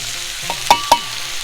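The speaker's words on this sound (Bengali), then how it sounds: "রসুন, পেঁয়াজ, কাঁচামরিচ সবকিছু একবারে এখন ভেজে নিতে হবে।" Garlic, onion and green chili frying in oil, with a steady sizzle and a few sharp utensil scrapes or stirs against the pan near the middle, close up and without talk.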